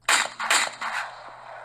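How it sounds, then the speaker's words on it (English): Two sharp gunshot blasts crack out in quick succession inside a cabin at night, loud and close, each trailing into a brief echoing decay. "That's when a gunshot blasted,"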